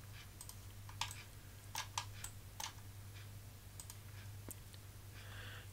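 Several soft, irregular mouse clicks while edges are selected in FreeCAD, faint and close over a steady low hum, with no talking.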